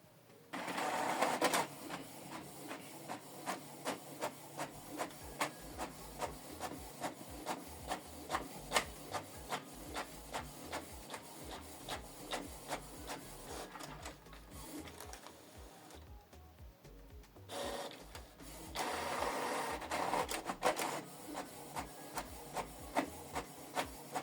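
Canon TS8750 printer printing, a quiet, regular series of mechanical clicks and ticks with brief whirring feed bursts near the start and again toward the end.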